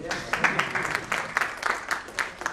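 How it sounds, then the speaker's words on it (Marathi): A seminar audience claps for Gawali sir, producing sparse, uneven bursts of handclaps from a small crowd rather than a full ovation, fairly close and moderately loud. "सगळ्यांना मी टाळ्या वाजवायला सांगितलं ना"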